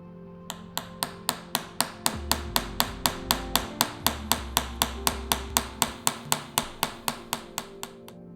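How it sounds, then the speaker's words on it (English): Handmade tool-steel chasing tools are struck against silver in a fast, steady series of about thirty bright, ringing hammer taps, close and clear, with a low hum beneath. "these are some slightly smaller chasing tools which I've made myself from tool steel"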